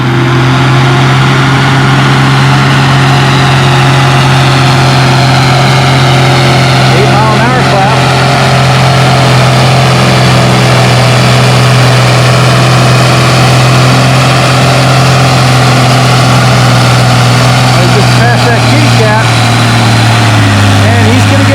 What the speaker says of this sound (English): Tim out on the Oliver 1955 with a 12 valve Cummins swapped in it.